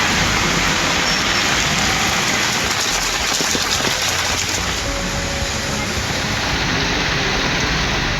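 Heavy night rain pours over Thoothukudi city in Tamil Nadu, a dense, steady roaring hiss that stays constant throughout with no voices.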